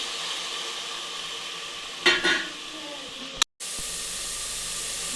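Tomatoes go into a pan of frying mint leaves for mutton biryani, bringing a soft, steady sizzle with a brief louder scraping stir midway, then a short cut before the frying continues.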